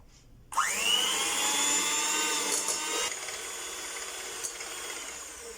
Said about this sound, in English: give it a little beat with my machine before adding the sugar